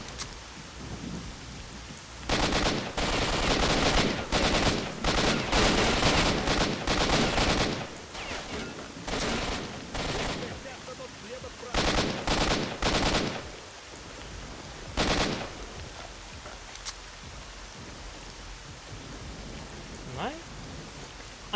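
AK rifle gunfire in a video game, loud, close bursts of rapid automatic shots in several long strings, separated by short pauses, with a couple of isolated shots later.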